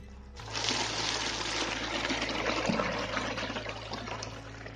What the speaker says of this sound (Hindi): इसमें पहले सबसे पहले 15 लीटर पानी ऐड करता हूँ।